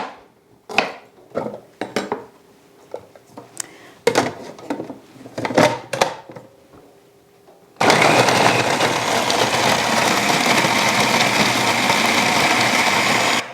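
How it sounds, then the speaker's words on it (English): Ginger is chopped by hand in a series of irregular knocks and taps, then a food processor starts up and whirs loud and continuous for several seconds as it minces the ginger. "This will just help them process more easily in the food processor."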